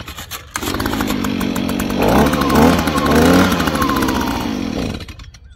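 A Stihl handheld blower's small two-stroke engine fires after a cord pull and runs, a loud close buzzing drone that swells in pitch midway, then cuts back and stops.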